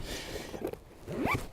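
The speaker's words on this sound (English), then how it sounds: "I'll zip these up." A zipper on hunting gear for a saddle hunting platform is pulled closed in a couple of quick, close rasping strokes.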